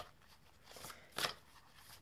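A deck of tarot cards is shuffled by hand during a reading, giving a couple of faint, brief riffling bursts against near silence.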